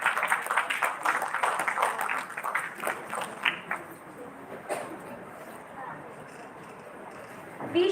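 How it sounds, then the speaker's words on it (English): Audience clapping at a valedictory ceremony, a burst of dense applause that thins out after a few seconds into scattered claps and room murmur. "A huge round of applause for sir,"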